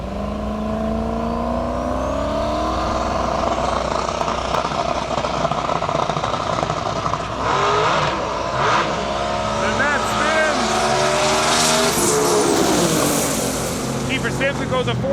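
Engines roar at a drag strip as a C5 Corvette and another car launch during qualifying, the pitch climbing through gear changes and fading down the track, loud and sustained under an announcer's talk.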